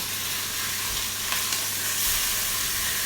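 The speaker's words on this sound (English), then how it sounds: "So the pork, sear it on one side, I'll sear it over on the other" Pork cheeks sear in a hot pan with a steady, loud sizzle and hiss that carries on unbroken, with no voices.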